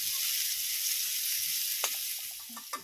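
Chopped carrots fry in oil in a pan with a soft, steady hiss, broken later by a few faint clinks and scrapes of stirring.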